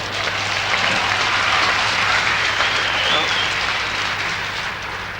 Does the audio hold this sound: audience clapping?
yes